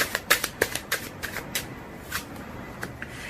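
Tarot cards shuffled by hand in a quick run of crisp riffling bursts that grow sparser and softer toward the end, close and clear with no talking.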